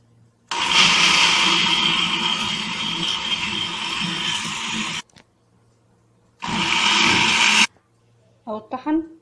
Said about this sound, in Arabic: نستعمل الخلاط، كوبايه ميه في الخلاط